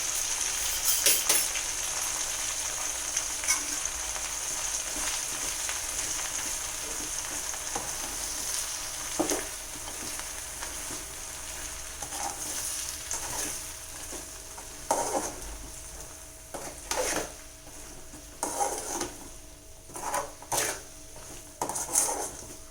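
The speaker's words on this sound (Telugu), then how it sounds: "ఇప్పుడు ఇది ఒక 2 మినిట్స్ పాటు ఫ్రై అవ్వాలి" Spice paste of cumin and dried red chillies fries in a pan for gongura chicken pickle, a steady sizzle broken by repeated spoon scrapes and clinks against the pan, close and without voices.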